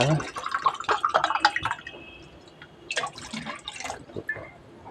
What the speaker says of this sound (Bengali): আর একটু দেব জলটা